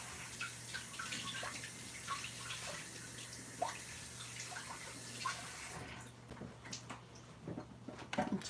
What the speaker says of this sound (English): I'll just rinse it for a second.